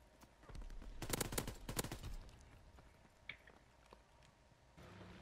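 Gunfire from a WW2 video game, a short rapid burst of machine-gun shots followed by a few scattered quieter shots, heard alone without talk.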